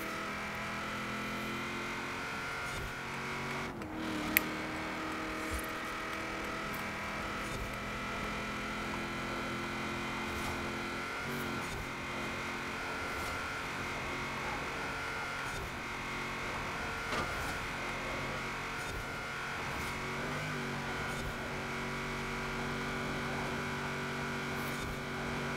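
A Forza Horizon 4 car circles a custom track, its engine droning steadily at high revs for a long stretch, with brief dips and surges where the gears change and occasional faint voice in the background.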